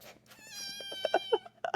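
A cat meows several times in quick succession, close and clear, with a short extra call at the end in an otherwise quiet room.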